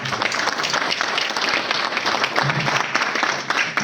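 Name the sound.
audience applauding a stand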